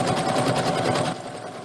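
A sewing machine stitches a seam in a fabric medical mask, with a fast, steady close-up rattling run that cuts off partway through, leaving a quieter hum.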